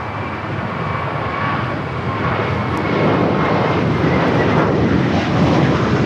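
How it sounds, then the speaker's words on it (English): A JetBlue Airbus A321 takes off from LAX, a loud, steady broadband engine roar that swells slightly over several seconds, heard from a distance without any voices. "Taking off to JFK JetBlue 324. It's an A321."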